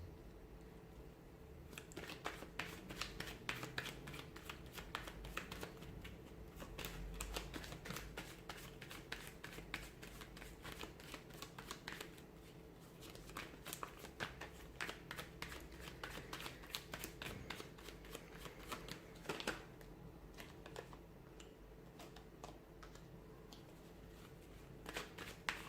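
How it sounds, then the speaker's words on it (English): Tarot cards are shuffled over and over with steady papery riffling and flicking, a few cards slipping loose and falling out, close and fairly quiet, with no talk. "Cards are just falling out."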